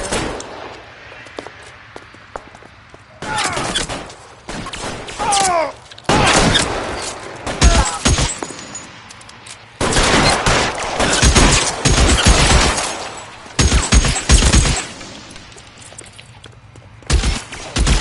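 Gunfire from a shootout in the video game L.A. Noire, loud repeated bursts of shots in clusters with brief quiet gaps between volleys, crackling close by over a low rumble.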